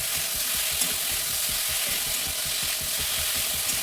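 Pointed gourd frying in a pan, a continuous dense sizzle with rapid crackling oil, steady and close with no voices.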